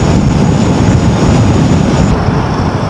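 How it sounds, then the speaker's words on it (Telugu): Strong wind roaring past a rider on a Royal Enfield Himalayan 450 during a long highway motorcycle ride in rain, a loud, steady buffeting rush with no break. "ఆడు చూడండి ఎట్ట ఇస్తుంది గాలి."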